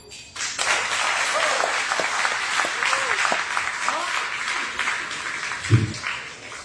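An audience at a live-streamed talk applauds steadily after the speaker finishes, a dense even clapping that starts abruptly and holds throughout, with a brief thump near the end.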